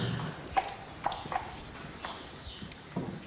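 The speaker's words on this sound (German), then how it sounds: "Die Milena reitet öppe mit dem Grossvater aus." Horse hooves clip-clopping at a walk on a farm in autumn as a rider heads out, a few distinct, fairly close hoof strikes spaced irregularly over quiet background.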